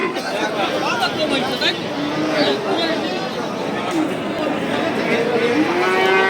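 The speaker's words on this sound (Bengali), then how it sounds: "এই সাইডে দেখতে পাচ্ছেন আরও বেশ কিছু ফ্রিজিয়ান ষাড় বাছুর বা ষাড় গরু" Friesian bulls and calves lowing at a crowded cattle market, several long moos rising and falling, heard close under someone talking and the murmur of the crowd.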